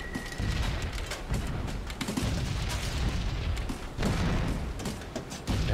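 Bombs dropped from a B-17 bomber in a combat flight game explode on the target below, a rolling series of deep booms and rumbling blasts layered over the steady drone of engines, loud and continuous.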